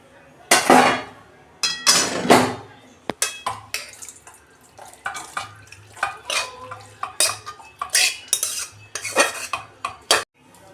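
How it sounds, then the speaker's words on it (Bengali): A metal lid is lifted off a pot of chickpeas that has been covered for about two minutes, with loud clattering and clinking of metal cookware, then repeated scraping and knocking of utensils against the pot. "দেখুন বন্ধুরা, আমি ঢাকনা খুলছি।"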